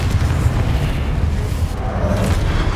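A Confringo explosive spell blast in Hogwarts Legacy gives a heavy, rumbling boom that rolls on as a continuous loud low roar.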